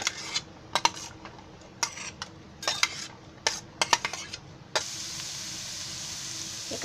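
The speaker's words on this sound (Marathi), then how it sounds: "आता मी पहिला आहे ना हे कांदा भाजते." Onion and curry leaves frying in oil in a pan for a brinjal and potato sabzi, with sharp metal spoon clinks and scrapes against the pan over a low sizzle, ending in a steady hiss.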